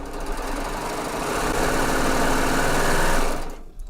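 A Gloria sewing machine stitches a decorative border with special threads in a fast, steady whirring hum that builds slightly, then stops abruptly near the end, heard close and with no talk.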